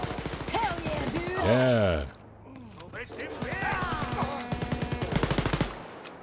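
Rapid bursts of gunfire rattle in a game setting, the automatic shots mixed with men chatting and laughing over the action.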